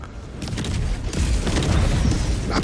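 Napalm explosions in a video game, heard as dense, rumbling booms and crackling blasts that roll on continuously without a break.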